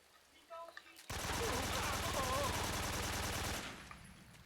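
Sustained burst of automatic gunfire lasting a few seconds in Metal Gear Solid 3: Subsistence, loud and continuous rapid rattle, preceded by brief quieter game sounds and fading to a low tail.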